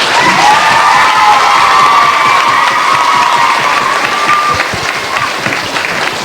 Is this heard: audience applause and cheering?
yes